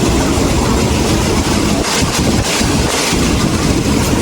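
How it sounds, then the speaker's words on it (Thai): Ordinary passenger train 201 running from Bangkok to Phitsanulok, heard from on board as a loud, steady rumble with a rolling low-end roar and brief dips, continuous throughout. "บนรถไฟธรรมดากระบวน 201กรุงเทพพิษณุโลกนะครับผม"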